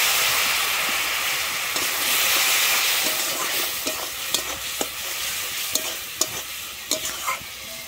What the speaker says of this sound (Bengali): এরপরে আমি একটু জল দিয়ে দিচ্ছি ফুল দিয়ে।